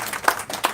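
Audience applause for a Gen Z group at an event, with a couple of brief bursts of clapping from a crowd in under a second.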